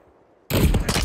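Call of Duty Modern Warfare 3 gunfire erupts after a half second of near silence: a loud, dense, continuous burst of shots that lasts to the end, with no talk.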